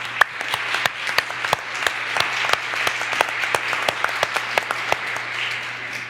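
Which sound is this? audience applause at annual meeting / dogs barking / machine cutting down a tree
audience applause at annual meeting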